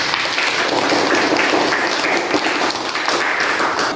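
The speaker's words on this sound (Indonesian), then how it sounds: "Luar biasa, aplaus buat 11 IPA 5" Audience applause for class 11 IPA 5 in a school classroom: a dense, even burst of many hands clapping at once, loud and sustained for several seconds with no talking over it.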